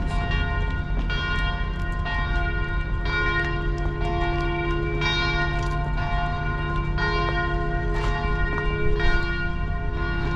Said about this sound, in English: The bells are really good at the start, but now it's just kind of wrecking the video.